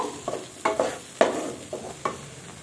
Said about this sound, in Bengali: আর গোটা রসুনটাও কিন্তু আমি তুলে দিলাম এখানে এখন একটু ভালোভাবে নাড়াবো